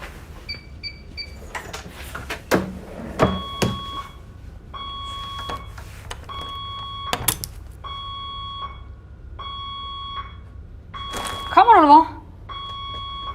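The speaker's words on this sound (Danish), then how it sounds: "Jeg sætter alarmen til nu, er du klar?" An electronic alarm beeps in a steady repeating pattern of short tones, with people talking and some clattering handling noises in between.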